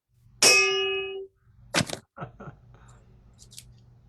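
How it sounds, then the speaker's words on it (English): A bright bell rings once at a Rotary Club meeting with a sustained metallic tone for nearly a second, followed by a few quieter clunks and knocks. "And for my 3 inches, I'll ring the bell."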